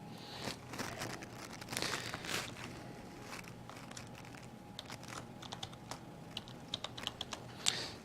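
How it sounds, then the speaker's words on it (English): A password is typed on a computer keyboard in a quiet room, with a steady run of soft, close key clicks and a few sharper taps. "I'm going to say choose type in a password"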